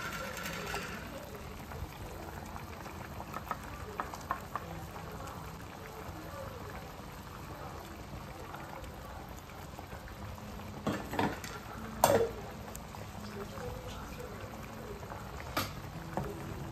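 Spices temper in a hot pan for crab curry, giving a steady soft sizzle and crackle with occasional sharper pops and clinks of utensils, fairly faint with no talking.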